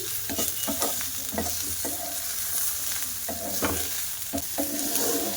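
Potatoes and tomatoes sizzle steadily in a frying pan, with repeated scraping stirs of a spatula at an uneven rhythm, close and fairly loud, with no talking.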